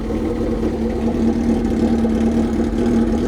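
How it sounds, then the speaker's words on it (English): A 2002 Suzuki GSX-R1000 K1 motorcycle idles on a cold start with the exhaust can removed. The engine gives a loud, close, deep and steady drone with a constant hum. "let's have a little cold start without the can."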